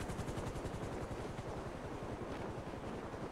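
A helicopter in the GTA 5 video game produces a loud, continuous rhythmic rotor chop with heavy rushing noise, steady throughout with no talk.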